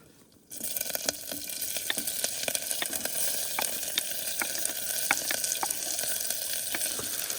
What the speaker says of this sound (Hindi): ये तड़कता भड़कता जीरा अभी कुकर के अंदर छलांगे मार रहा है